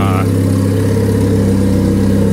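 A turbocharged car with a single-cam VTEC engine idles steadily and close during tuning, a loud constant low hum throughout with a brief voice at the start.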